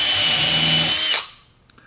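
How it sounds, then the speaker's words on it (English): A power drill with a countersink bit bores screw holes in a wooden crosscut sled runner, a loud steady whine that winds down abruptly after about a second, then a couple of faint clicks. "We're going to countersink some holes."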